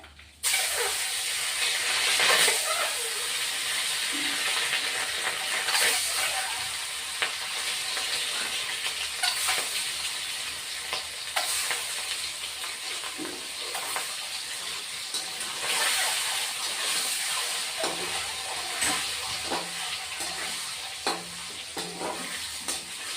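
Steady, crackling sizzle of eggs frying in hot oil, with occasional sharper pops and spatters, close and continuous throughout.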